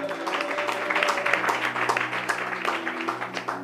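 An audience at a French Bible teaching on Exodus applauding, a dense steady patter of clapping held at moderate level for the whole stretch.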